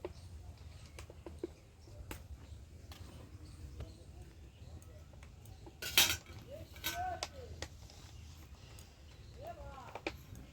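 Metal pot and utensils clink a few times as a thin fish curry is lifted off a stove in a village kitchen, sharp knocks scattered over a low background hum, one louder clatter midway.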